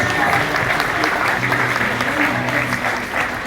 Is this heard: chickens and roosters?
no